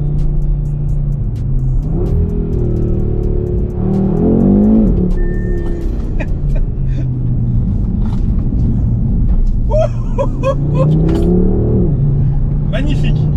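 An Audi RS3-R tuned by ABT accelerates hard, its engine rumbling and rising in pitch in two strong pulls, close and loud, with someone talking over it throughout.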